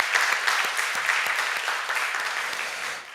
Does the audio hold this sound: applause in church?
yes